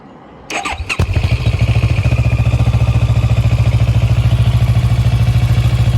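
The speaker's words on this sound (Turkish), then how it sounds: "Motorun gayet güzel bir sesi var. ATV seslerine benziyor biraz." An RKS SRV 700 motorcycle engine cranks and catches after a few sputters, then settles into a steady, loud, throbbing, ATV-like rev close by.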